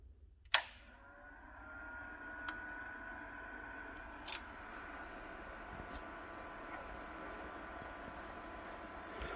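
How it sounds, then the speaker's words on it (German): Cooling fans of a Crown XLS 2002 power amplifier spin up after a switch-on click, leaving a steady, faint whooshing hum with a few small clicks, heard alone in a quiet room. "Sobald ich den hier einschalte, hört man auch sofort die Lüfter."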